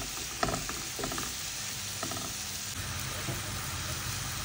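Mushrooms fry in butter in a pan with a continuous crackling hiss and a few clicks and scrapes from stirring.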